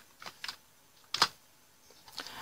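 Computer keyboard typing on a Windows 10 PC, a few soft, sparse keystrokes close by in a quiet room.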